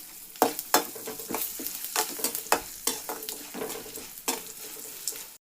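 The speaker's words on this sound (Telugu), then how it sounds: "ఇవన్నీ కూడా బాగా వేగాలి. ఓకే, దీనిలోకి కొంచెం కరివేపాకు" Tempering spices with cashews and curry leaves frying in hot oil in a pan: a steady close sizzle broken by repeated sharp bursts and spatters as the pan is stirred, with no talking.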